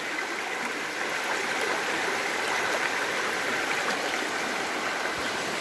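Stream water rushes and gurgles steadily at close range as a gold pan is agitated in it during gold panning in the White Mountains National Forest, New Hampshire, a continuous wash of flowing water with no talk.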